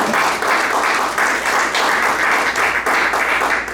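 A church congregation gives thunderous, continuous applause during a sermon, many hands clapping in a steady wash with slight rhythmic surges.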